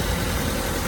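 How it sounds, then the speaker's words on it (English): A Mazda auction car's engine idles with a steady, low rumble, close by and continuous, with no talk over it. "Oh, that car's still on, I thought."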